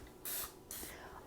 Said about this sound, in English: I am going to spray it with some non-stick spray